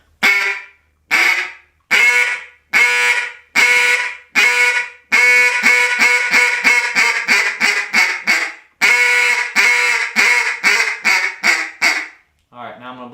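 A duck call blown with warm breath gives loud, raspy quacks, first single spaced honks and then fast rolling chatter runs, close up, ending with a brief low huff.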